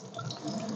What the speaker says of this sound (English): So I'm just trying to hold them in my hand and kind of rinse the water over them